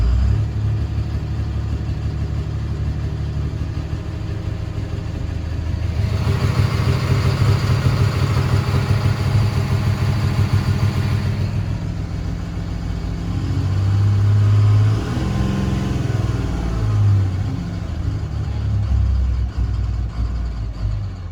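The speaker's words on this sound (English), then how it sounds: "Ran rough in general, definitely seemed like it was misfiring on a cylinder." A 5.9 common rail Cummins diesel engine running rough and misfiring on a cylinder, a steady low idle rumble with uneven pulsing that swells in intensity midway and again later, close and loud with no talking.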